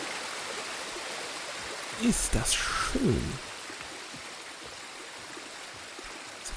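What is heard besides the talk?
waterfall in a gorge, from the video game Ghost of Tsushima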